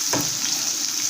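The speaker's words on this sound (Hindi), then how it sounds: "थोड़ा सा ब्राउन, हल्का सा गुलाबी होने तक भूनेंगे" A pan sizzles steadily over a low flame as ingredients for vegetable sambhar fry until lightly browned. There is one soft stirring knock near the start.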